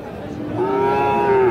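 A Sahiwal bull calf, about seven to eight months old, at a cattle market in Khulna, gives one sustained, close moo that starts partway in and holds steady to the end over a faint crowd murmur.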